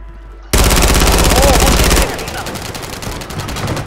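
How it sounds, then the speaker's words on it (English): Shotguns fire in a multiplayer shooter video game, a loud burst of rapid, overlapping blasts that settles into fainter, ongoing gunfire rattling in the background. "They're using shotguns."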